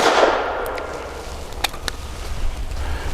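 A Grand Power LP380 pistol fires at steel targets, giving a few sharp, fairly distant cracks spaced unevenly over steady background rumble.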